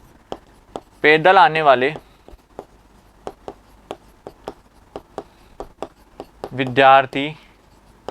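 A teacher in a maths class writes on a board, making sharp, distinct taps and strokes at an uneven rhythm, close and clear. Two short stretches of speech break in between the strokes.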